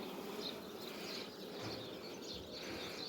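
Honeybees buzz around a hive on a rooftop apiary, a faint, continuous hum of many insects with no voices.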